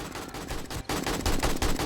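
Sustained, loud automatic gunfire in 7 Days to Die, a dense rattle of rapid shots with a brief break before the firing resumes.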